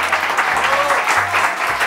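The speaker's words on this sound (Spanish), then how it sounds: "recibamos con un fuerte aplauso" A studio audience claps to welcome actors onto a Spanish television show stage, dense clapping with low background thumps and some voices mixed in, fairly loud and close.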